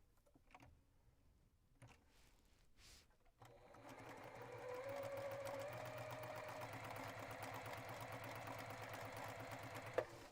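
A sewing machine stitches quilt blocks together with a quarter-inch seam, running steadily and close for several seconds after a few light handling taps and rustles.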